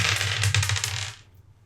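Three six-sided dice rattle and clatter briefly across a table, a quick run of clicks that dies away after about a second.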